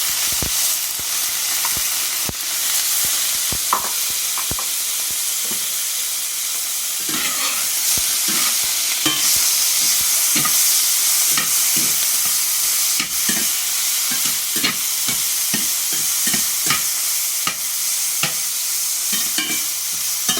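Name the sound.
shrimp stir-frying and sizzling in a hot pot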